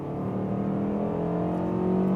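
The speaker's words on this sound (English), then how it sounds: "you hear this naturally aspirated engine, really going in the RPMs" A Mazda CX-5 facelift with a naturally aspirated engine accelerates from 60 to 80 km/h, heard from inside as a loud, steady drone rising in pitch as revs climb, with no talking.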